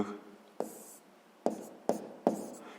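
Pen or chalk strokes writing numbers for a school math exercise on subtracting fractions, a few short scratchy marks spaced roughly half a second apart, close and quiet.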